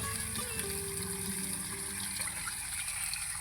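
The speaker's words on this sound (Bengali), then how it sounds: "এই যে জল ছেড়ে দিয়েছি, দিয়ে সব মুলোগুলো ধুয়ে দিয়ে" Tap water runs steadily over radishes being washed at a household washing spot, a continuous near trickle and splash with no speech over it.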